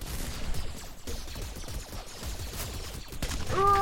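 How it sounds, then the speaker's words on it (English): A burst of rapid explosive shots and blasts from a rocket launcher in a Minecraft minigame, dense and continuous over several seconds, ending with a rising tonal game sound. "rocket launcher."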